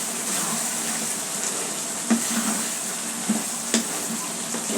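Papaya bhaji stir-frying in a pan, a steady close sizzle with a few sharp spatula scrapes and clinks against the pan.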